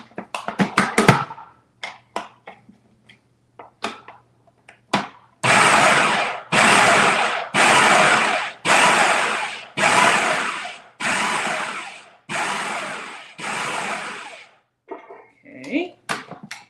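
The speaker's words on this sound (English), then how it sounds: "Just gonna scrape it down from the sides so it can be evenly blended." A blender whirs in repeated short pulses while chunky muhammara dip is blended, about nine loud bursts of a second each after a few brief clicks and knocks, with short pauses between.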